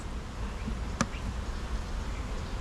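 A swarm of bees buzzes inside a shaken bucket, making a dense, continuous hum that stays close and steady, with one sharp knock partway through.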